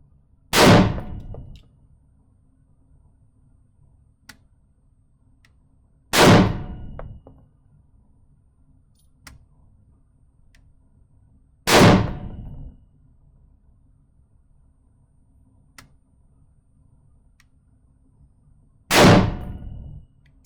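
An EM-2 rifle fired at a live-fire range, four single sharp shots spaced several seconds apart, each loud and close with a short ringing tail over a low steady hum.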